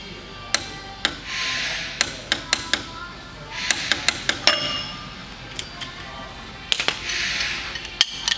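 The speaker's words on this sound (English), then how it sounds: "Retorque the adjusting nut to 50 foot-pounds while rotating the wheel." Sharp metallic clicks from a torque wrench retorquing a wheel-end adjusting nut to 50 foot-pounds as the truck wheel is turned, sounding in irregular bursts of close, loud ticks over a quiet shop background.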